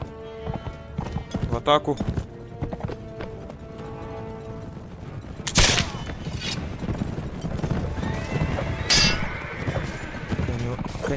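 Cavalry horses charging in the video game Mount and Blade: With Fire and Sword, a dense, loud clatter of hooves with whinnies and clashing, while someone speaks over it.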